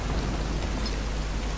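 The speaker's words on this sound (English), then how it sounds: "It's still raining." Steady rain pours in a Tomb Raider video game scene near a cliff, an even, dense wash of noise with no break and no voices.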